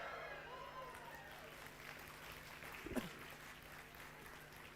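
An audience in a university program hall claps steadily at moderate volume, a broad wash of applause filling the room, with a voice heard briefly near the start.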